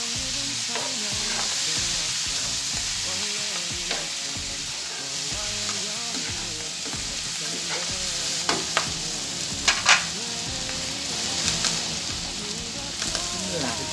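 Tuna sizzles and fries in a pan with garlic for egg noodle carbonara, a steady loud hiss broken by stirring scrapes and a few sharp clacks of a utensil against the pan.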